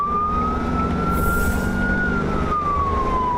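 Ambulance siren wailing on a Las Vegas road, a loud sustained tone sliding slowly up and then down over steady traffic rumble, with no voices.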